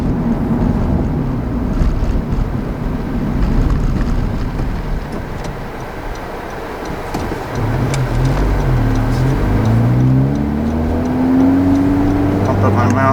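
A 2019 Honda Civic Type R fitted with a Borla exhaust accelerates hard, its engine note rising in pitch through the gears over a constant roar of wind and road noise, recorded close from inside the car.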